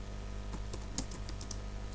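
Light typing on a computer keyboard, a handful of soft, irregular key taps over a steady background hum, close and quiet with no talking.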